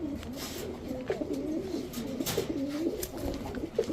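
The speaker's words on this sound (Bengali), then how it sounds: "এটা হচ্ছে ইন্ডিয়ান চুইঠাল ঝাঁকগলা একটা নর" An Indian Chuithal Jhaakgola pigeon pair, male and female high-flying birds, cooing close by in repeated soft rolling calls against a low background hum.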